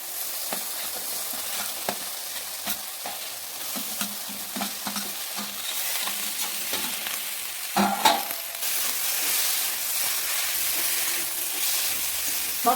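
Vegetables sizzle steadily in a hot pan for Bengali fish-bone chochori while a spatula scrapes and clatters through them, the frying growing louder partway through.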